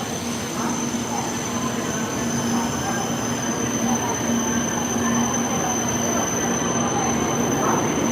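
Steady, continuous rumble and whoosh of a Shinkansen bullet train in motion in Japan, heard from inside, with a thin high whine running throughout.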